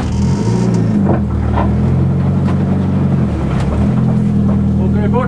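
A car speeds along with a loud, steady engine roar and rushing drone throughout, close and continuous, while people talk inside over it.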